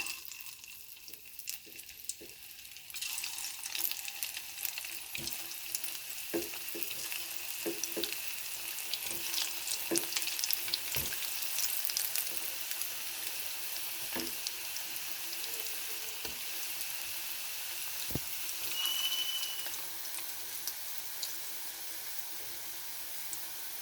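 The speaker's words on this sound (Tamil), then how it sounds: "ஆயில் நல்லா ஹீட் ஆனதுக்கப்புறம் லோ ஃப்ளேமில் வச்சு பொறிச்சு எடுத்துக்கலாம்" Coconut-stuffed sweet rolls deep-fry in hot oil over a low flame. A soft, continuous bubbling sizzle is broken by occasional sharp pops and clicks, and it swells after the first few seconds.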